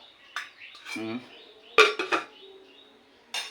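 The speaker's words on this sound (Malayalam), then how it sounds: "ഒന്ന് മൂടി കൊടുക്കാം" A metal lid clinks down onto a pot of boiling shark curry in a couple of brief, sharp clatters, with faint sounds of a voice nearby.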